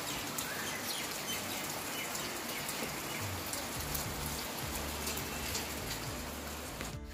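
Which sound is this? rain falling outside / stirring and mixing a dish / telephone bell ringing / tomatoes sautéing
rain falling outside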